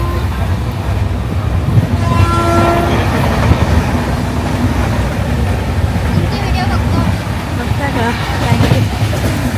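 Seen from on board, the Marusagar SF Express passenger train rolls toward a station with a loud continuous rumble and clatter and a brief tonal horn-like note, voices chattering throughout.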